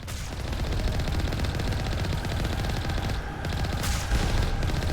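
Turrets fire rapid automatic bursts in a Mass Effect firefight, a dense continuous rattle of gunfire with sharper flares near the end.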